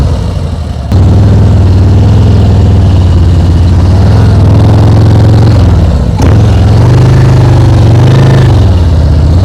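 A motorcycle engine holds a low, steady throttle during slow-speed riding practice, rumbling loudly and close with small swells and one brief dip midway.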